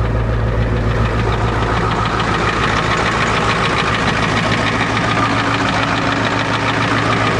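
An old, rusty Ford truck engine idles steadily and loudly close by, with a continuous rough, knocking rumble throughout and no voices.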